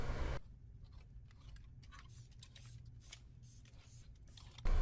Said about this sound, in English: I snip into it first and then begin just cutting one layer as normal